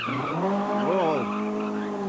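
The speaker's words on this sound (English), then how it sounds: "big tail slide from Bourdain" A rally car's tires squeal in a sharp tail slide during the 1997 Jersey Rally, the skid rising and falling in pitch over about a second, with engine noise underneath.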